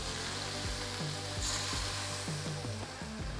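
Onions caramelizing in a hot pan beside resting steak for a steak sandwich give a loud, steady sizzle and fry, with no talking.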